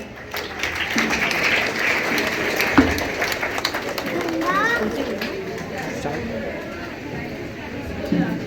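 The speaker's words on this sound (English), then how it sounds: "Please put a big round of applause for him." An audience claps through a school Independence Day celebration, a steady spread of applause mixed with crowd chatter and children's voices that fades toward the end.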